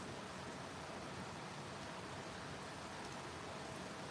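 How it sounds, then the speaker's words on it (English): Heavy rain pours steadily outside at night, a dense, even hiss of countless drops filling the whole stretch with no breaks and no voices. "Can you guys hear that rain?"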